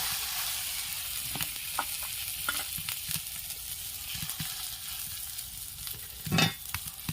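Cabbage fries in hot oil in a wok with a constant bright sizzle, punctuated by scattered stirring clinks and scrapes, close up and without any talking.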